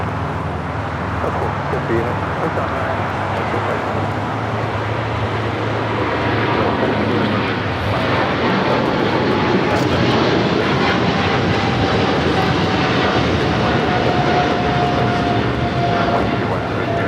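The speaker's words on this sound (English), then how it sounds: "This is China Airlines Cargo 5137 taking off to Taipei on the 777 freighter." A China Airlines Cargo Boeing 777 freighter takes off, its jet engines roaring loudly and steadily for the whole stretch, with a broad rumble rising slightly as it climbs; faint voices sit under the noise.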